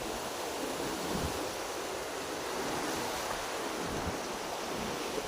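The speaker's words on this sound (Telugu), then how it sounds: "ఎలా ఉండవు నీటి ఉధృతి." SRSP floodwater released after heavy rains surges under Gummiryal bridge as an unbroken, even rushing roar, with some wind buffeting and no one talking.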